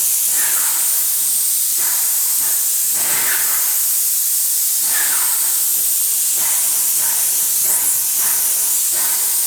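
Steady, loud hiss of a paint spray gun laying down fresh paint, a continuous close airy rush with slight pulsing as the gun sweeps back and forth, no voices.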